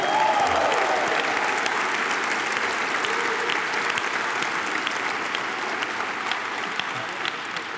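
An audience claps at a basketball coaching announcement press conference, strong sustained applause from a sizable crowd that slowly tapers across several seconds.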